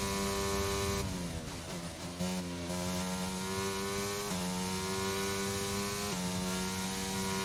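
A Formula 1 car engine in the F1 22 racing game screams loudly and steadily on a flying lap, its high revving pitch climbing through gears with brief dips at shifts, heard alone without talk.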